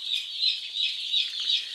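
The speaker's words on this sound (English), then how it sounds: "we've got 20 Aylesbury ducks, and they're just settling in and figuring life out" Twenty young Aylesbury ducklings on wood shavings on a farm give repeated high, thin peeping calls in a steady rhythmic chorus, fairly close and alone.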